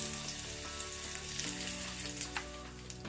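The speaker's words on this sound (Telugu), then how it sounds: "ఇప్పుడు మనకి తాలింపు కూడా వేగింది" Garlic tempering for raw mango pickle fries in hot oil with a steady, close sizzle and a few soft crackles, alongside faint tonal background sound.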